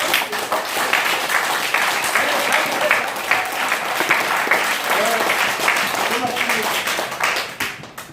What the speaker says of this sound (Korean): 우리 박수 한번 치죠